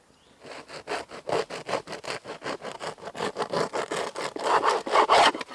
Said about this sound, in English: Listen to that crust as we cut through it there.